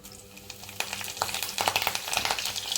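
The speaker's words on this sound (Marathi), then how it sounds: "तेल आता गरम झालं आहे त्यामध्ये आपण जिरे घालून घेणार आहोत आता आता यामध्ये आपण कढीपत्ता घालून घेणार आहोत" Cumin seeds and curry leaves crackle and spit in hot oil in a pan, a steady close sizzle that grows busier and louder with scattered sharp pops.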